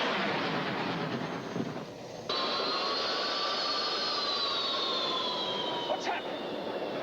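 Airliner jet engines droning steadily inside the cabin, a broad roar with whining tones that shift pitch as the port engine loses power, while the starboard engine keeps running; no voices.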